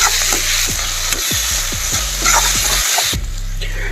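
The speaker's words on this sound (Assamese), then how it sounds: "আদা নহৰু দিয়াৰ পিছত আমি ভাজি লৈছোঁ" Onion, ginger and garlic sizzle loudly in a pan for a home-style chicken gravy, with a steady spatter broken by repeated scraping strokes of a spoon stirring the mixture close by.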